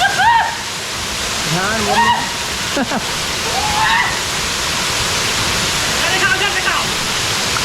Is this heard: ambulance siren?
no